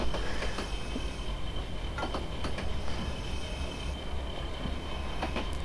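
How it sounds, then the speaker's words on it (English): Steady rumble of a PRR Baldwin RF-16 Sharknose diesel locomotive in Train Simulator Classic as the throttle notches wind down, with rail and wheel noise underneath and a few brief squeals, continuous and fairly loud. "It's got kind of a noticeable notch wind down."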